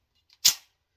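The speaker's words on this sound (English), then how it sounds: "Let's just shoot at 10 yards." A single loud, close gunshot from an RIA TAC Ultra 10mm pistol firing a 180 grain XTP load at 10 yards: one abrupt crack that decays quickly into silence.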